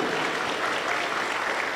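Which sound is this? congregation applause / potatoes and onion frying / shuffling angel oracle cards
congregation applause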